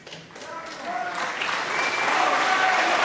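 A crowd at the 2016 Masters snooker final applauds and cheers, the clapping swelling steadily from moderate to loud and sustained, with voices mixed into the ovation.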